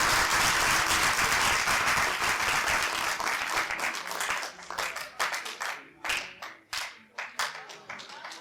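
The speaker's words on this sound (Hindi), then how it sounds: "तो एक बार जोरदार तालियां बजाएं।" An audience at a college mushaira and book release applauds loudly in a dense burst, then the clapping breaks into scattered individual claps that fade out.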